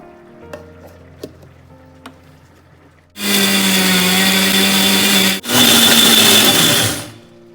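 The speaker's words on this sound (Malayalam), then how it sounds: "ഇനി നമുക്ക് നമ്മൾ വറുത്ത തേങ്ങ അരച്ചെടുക്കാം" After a few faint kitchen clinks, a mixer grinder roars to life grinding roasted coconut without water for a crab roast, running loud and close for about two seconds, pausing briefly, then whirring again before stopping.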